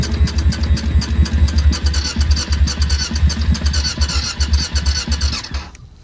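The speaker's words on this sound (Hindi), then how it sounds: "एक सेल्फ मार के देखते हैं, नहीं तो जंप स्टार्टर से तो करनी है" A motorcycle engine, a DRS in snowy Spiti Valley near Kaza at about minus seven degrees, runs after an electric self-start, a loud close throbbing idle with steady rapid pulses that cuts off abruptly at the end.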